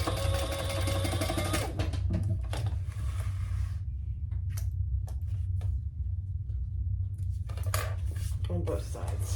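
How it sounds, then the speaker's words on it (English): A home sewing machine basting fabric flat while sewing a Scottie Convertible pattern, its steady mechanical whirr running in bursts with pauses and light handling noises between runs. "So we're just basting that flat."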